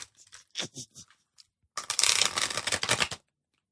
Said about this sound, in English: I also recently learned that the big tarot cards are not meant for shuffling